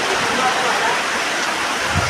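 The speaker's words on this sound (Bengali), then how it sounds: "প্রচণ্ড পরিমাণ বৃষ্টি হচ্ছে" Very heavy rain pours down in a steady, dense, loud hiss of falling water, continuous for the whole short stretch with no breaks.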